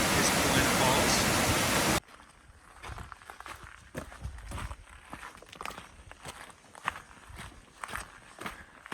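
Paulina Falls, a waterfall in volcanic rock country, roars loudly for two seconds, then gives way to hiking footsteps crunching steadily on a trail, close and fairly quiet, with faint water noise behind them.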